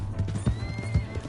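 A horse in the Red Dead Redemption 2 video game clip-clops with quick, irregular hoofbeats up close, while a faint high whinny runs through the sound.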